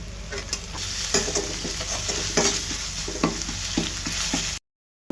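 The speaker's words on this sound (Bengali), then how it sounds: "এবার আদা রসুন বাটা দিয়ে দিব।" Ginger garlic paste frying with onions in a pan, with a steady sizzle under frequent spatula scrapes and stirring knocks, close-up and free of talk, then a brief silence.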